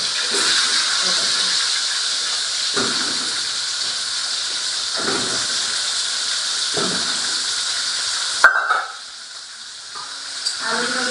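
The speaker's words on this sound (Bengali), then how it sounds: "আলুগুলো তেলের মধ্যে দিয়ে দিলাম আলুগুলো খুব সুন্দর করে লাল লাল করে ভেজে তুলে নেব" Potato pieces frying in hot oil in a kadai give a steady, loud sizzle with a few stirring scrapes, then a sharp clatter near the end after which the sizzle drops to a quieter hiss.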